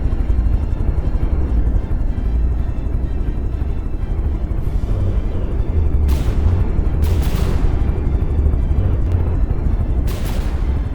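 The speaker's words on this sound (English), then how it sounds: "we had an explosion of some sort here" Explosions in the From The Depths vehicle combat game during a squadron tournament battle, a constant loud engine-like drone punctuated by three or four sharp booming blasts in the later seconds.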